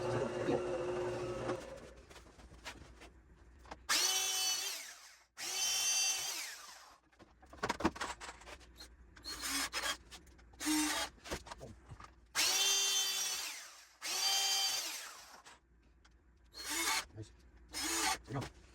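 A power drill whirs in repeated bursts of a few seconds each, starting and stopping, while an old outdoor swing is being restored. Quieter handling noises fill the gaps.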